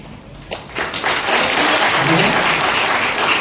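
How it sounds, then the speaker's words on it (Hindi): A church congregation in Roorkee breaks into clapping during a sermon; a few scattered claps quickly swell into loud, sustained group applause that continues to the end. "परमेश्वर के लोगों, आओ तालियां बजाओ"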